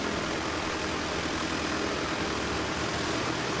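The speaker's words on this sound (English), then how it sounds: "For NZ5831 coming in from Hokitika on the west coast. It's a Dash 8." A Dash 8 Q300 turboprop airliner arriving at Christchurch Airport, New Zealand, its engines a steady, broadband roar that holds even and continuous throughout, with no voices.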